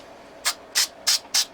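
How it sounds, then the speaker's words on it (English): 3M Super 77 multi-purpose spray adhesive sprayed onto a piece of cardboard in four short, close hissing bursts spaced roughly a third of a second apart, quiet and with no talking. "this is 3M Super 77 multi-purpose adhesive. It's just a spray glue."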